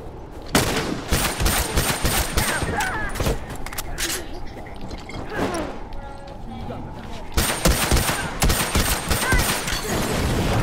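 Rapid bursts of video game gunfire crackle through the scene, dense volleys with brief pauses, close and loud under excited player voices.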